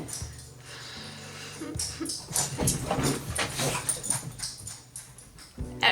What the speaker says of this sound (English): My dogs are actually playing together